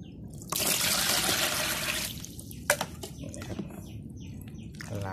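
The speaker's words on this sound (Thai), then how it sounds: "เอาน้ำเนี่ยครับน้ำสะอาดแต่อย่าน้ำประปาเลยนะครับ" Clean water that was stored rather than taken from the tap is poured out in a durian garden. A loud, splashing rush starts after a short pause and lasts about two seconds, then fades into scattered drips and trickles.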